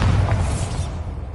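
A Bombarda blasting spell cast in a Harry Potter video game, a single loud booming burst that hits at once and fades into a rumbling tail over about a second.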